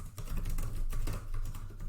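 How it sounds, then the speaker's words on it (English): Steady typing on a computer keyboard, a continuous run of close, rapid key clicks with no gaps and no talking. "Excuse my typing."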